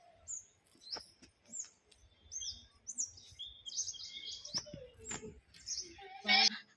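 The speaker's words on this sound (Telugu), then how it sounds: "ఇక్కడ కూడా పిచ్చుకలు అరుపులు" Sparrows chirp in quick, bright bursts, scattered and near, in a village at morning, with a few rustles and soft knocks between calls.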